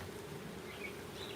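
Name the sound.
honey bees buzzing at an open hive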